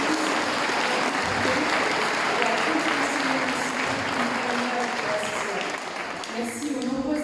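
Audience applause at a political campaign speech in Avignon, a dense continuous roar of clapping from a large crowd, with a voice speaking over it near the end.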